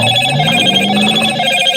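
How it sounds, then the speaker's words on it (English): A telephone rings with steady repeating electronic tones over a low background hum, fairly loud and alone with no talk. "That was a phone call."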